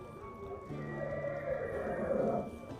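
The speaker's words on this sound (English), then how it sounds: "Really loud horsey right outside the door." A horse sound effect plays, a loud drawn-out neigh and whinny with hoof clip-clops beneath, steady and close for a few seconds with no talk over it.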